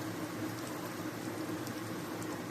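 Chicken tikiya patties fry in oil over medium flame, giving a steady, soft, continuous sizzling crackle with no breaks.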